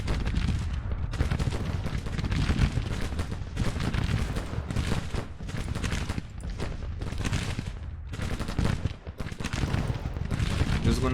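Dense Civil War musket and artillery fire in a large Grand Tactician battle, a continuous loud crackling fusillade with heavy booms running throughout and a faint voice underneath.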